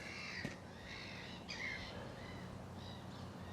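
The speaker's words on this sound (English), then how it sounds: "it's very noisy out here. It's one of those gulls." Raucous bird calls ring out a few times over a steady outdoor background hiss, harsh squawking cries like gulls at moderate distance.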